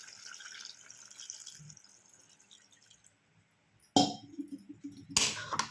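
Water pours into a pot of Telangana-style country chicken tamarind curry as a steady hiss that thins out and fades, followed by two sharp metallic clatters.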